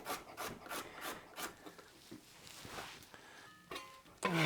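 A knife rasps rhythmically against a vegetable while shaving it down toward the core, several quick scraping strokes close by, quiet with no talk.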